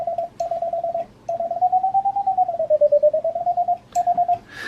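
CW sidetone from a Kenwood TS-890 transceiver, a steady pure beep keyed in short and long bursts of Morse code, close and clear, with faint clicks near the end.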